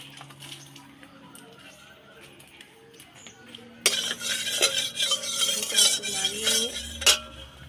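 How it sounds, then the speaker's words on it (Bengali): A spoon scrapes and clinks against a wok as bottle gourd fries in a little ghee, loud close stirring that starts abruptly and continues in uneven strokes with a soft sizzle beneath. "লাউটা হালকা ভেজে নেবো"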